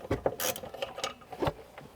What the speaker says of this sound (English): With a 13mm, gently pull back the cover, exposing the nuts to the lock.